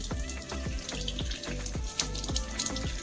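Tap water running steadily into a sink while blackberries are washed, a continuous close splashing rush with faint clatter beneath.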